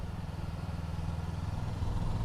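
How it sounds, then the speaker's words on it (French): Voge 500R motorcycle engine pulling steadily while riding in sixth gear, a continuous low harmonic drone with a faint rhythmic pulse, close and even throughout without talk. "Et le moteur est assez souple, il est élastique."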